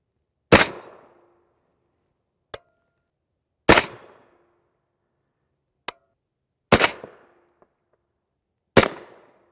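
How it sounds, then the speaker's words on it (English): Four rifle shots from an 8.5 inch barrel fitted with a Yankee Hill R9, fired at an even pace a few seconds apart, each loud and sharp with a short decaying tail and a faint metallic tick between shots. "We'll take 4 shots total."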